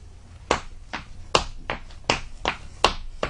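A voice imitates the slapping of slippers while walking: a series of about eight sharp, close slaps at an uneven walking pace, heard alone without speech.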